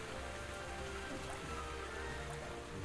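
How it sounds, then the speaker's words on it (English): Rain falls steadily in the video game Quench, a dense, even patter of drops on the ground at moderate level throughout. "That looks like it just needs to be rained on."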